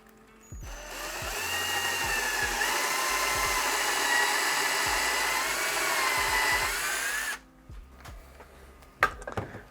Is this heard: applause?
no